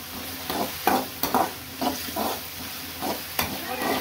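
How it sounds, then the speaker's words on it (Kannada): Onion, curry leaves, green chilies and tomato frying in a pan for upma, a soft bed of sizzle broken by repeated scraping stirs at an uneven rhythm, close and moderately loud. "ಆಮೇಲೆ ಟೊಮೊಟೊ ಎಲ್ಲ ಫ್ರೈ ಮಾಡ್ಕೊತಾ ಇದ್ದೀನಿ"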